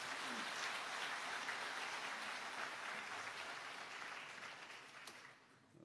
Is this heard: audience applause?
yes